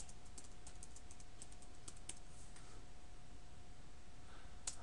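Commands are typed on a computer keyboard at a Cisco IOS command line, soft quick keystrokes tapping irregularly and faintly close to the mic over a steady background hum.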